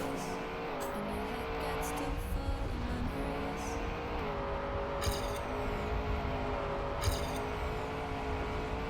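A car revs continuously in the Trackmania racing game, a steady, loud harmonic engine drone whose pitch shifts with throttle changes, with a couple of sharp bright bursts near the end.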